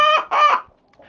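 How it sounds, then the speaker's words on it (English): Peacocks kept with a farm flock call out twice in quick succession, loud, close and nasal, each harsh honk about a quarter second long, then the yard falls nearly quiet. "The peacocks make so much noise."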